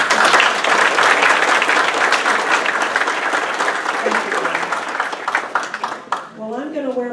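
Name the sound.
audience applause for Catherine Pearson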